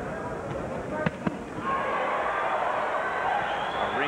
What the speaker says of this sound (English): Our ringside microphones pick up the thudding of De La Hoya's body punches